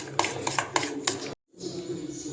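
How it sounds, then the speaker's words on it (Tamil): A spoon beats sugar in a bowl for an oven-free cake batter, a quick series of clinking scrapes against the bowl that breaks off briefly and then resumes more softly. "சர்க்கரை கரைகிற அளவுக்கு நல்லா இந்த மாதிரி அடித்து எடுத்துக்கலாம்"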